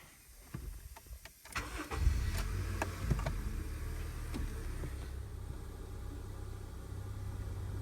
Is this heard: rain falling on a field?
no